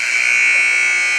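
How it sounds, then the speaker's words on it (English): A basketball scoreboard buzzer sounds at the end of halftime at an eighth-grade girls' game in a school gym, one sustained loud electronic tone held steadily for over a second. "That buzzer marks the end of the halftime intermission."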